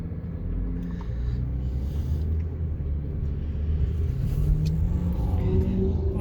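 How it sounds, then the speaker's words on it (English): A truck passes on a town road, a steady, deep engine rumble that swells slightly as it draws near, heard alone with no talking. "Whoa, hello, truck."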